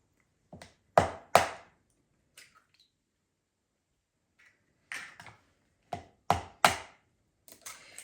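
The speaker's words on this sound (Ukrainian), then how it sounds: "Сюди вбиваю 3 яйця. три яйця додаю." Three eggs are cracked into a bowl for a broccoli casserole, heard as close, sharp taps and cracks in short clusters separated by quiet pauses, with faint shell and liquid sounds between.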